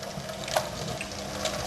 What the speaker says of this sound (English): run a little bit more water